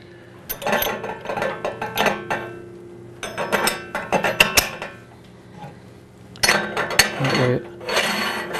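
A meat grinder being hand-tightened and loaded with meat for ground jerky, with metallic clinks, clanks and handling knocks coming in irregular bursts close by, separated by quieter pauses.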